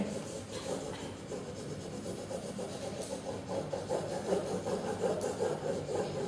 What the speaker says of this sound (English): just turn it on its side and rub onto the object, picking up its texture